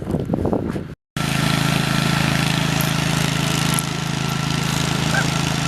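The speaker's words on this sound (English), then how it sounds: "One big vacuum or leaf blower." A big road-cleaning vacuum or leaf blower works along an abandoned highway, giving a loud, steady engine drone with a low hum that briefly cuts out near the start, then runs on unbroken.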